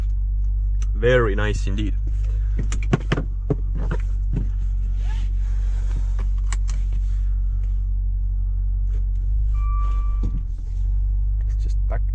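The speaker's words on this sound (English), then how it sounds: "to start the car, push the button and the car fires right up." A 2020 Maserati Levante GTS with a V8 engine settles into a steady, deep idle after starting, a constant low rumble held throughout while a person speaks briefly over it and small interior clicks and rustles occur.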